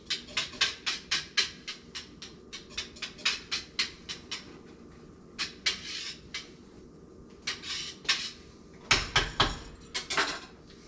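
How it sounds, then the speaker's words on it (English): A wire whisk clatters rhythmically against a metal brew pot while stirring dry malt extract into boiling wort for a blueberry honey ale, with repeated bright metallic scrapes and taps, close and clear, pausing briefly before resuming. "Mix it all in nice. Whisk works well."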